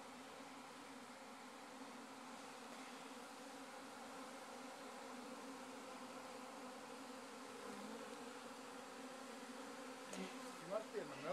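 A honey bee swarm buzzes steadily and close, a dense continuous drone that holds for the whole stretch, with a few faint knocks near the end.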